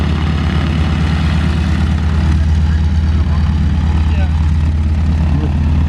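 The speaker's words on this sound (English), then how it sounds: "He's taxiing up. He's going to pick up our wing walker." A small propeller airplane taxiing at an air show, a steady loud low drone with an even engine throb throughout, with announcer-style talk faintly beneath.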